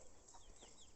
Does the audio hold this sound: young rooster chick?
yes